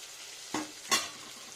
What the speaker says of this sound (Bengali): এবার মিক্স আপ করবো সব মশলাটা অ্যাড করে নিলাম